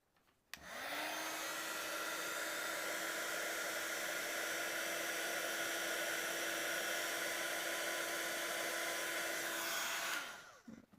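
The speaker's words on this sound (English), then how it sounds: "So we're going to use our heat tool now." A crafting heat tool blows hot air steadily onto a small paper flower, a loud, even whooshing hum with a low motor tone that runs unbroken for about ten seconds, then cuts off.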